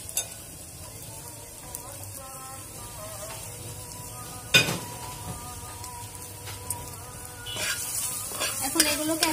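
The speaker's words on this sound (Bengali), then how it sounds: "এখন এগুলোকে একসাথে নেড়ে চেড়ে সিদ্ধ করে নেব যাতে করে কাঁচা ভাতটা না থাকে।" Chopped onion and garlic stir and sizzle in oil in a pan, with quiet frying and scattered scrapes and clinks from a utensil. The stirring grows busier near the end.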